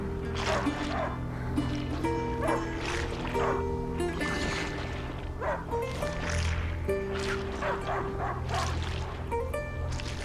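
Dog barking in the video game A Plague Tale: Innocence, repeated woofs and yips spread across a dense layer of game music and ambience, moderately loud and continuous.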